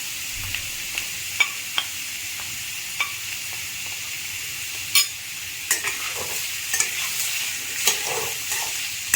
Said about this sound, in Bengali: প্রথমে এখানে আমি 1 চামচ হলদি দিয়ে আর 1 চামচ লবণ দিয়ে ভেজে নেব।